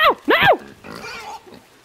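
Two loud squealing grunts from a pig in the video game Inside, close and sharp, followed by softer snorting grunts that fade out.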